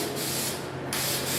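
Aerosol spray paint can hissing in steady bursts up close, used for home painting to cover a surface in coats, with two short pauses breaking the continuous loud spray.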